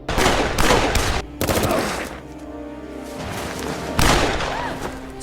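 Gunfire in an action film: several sharp, loud bursts of shots in quick succession with heavy thuds, separated by brief gaps and trailing into lower rumbling and ringing.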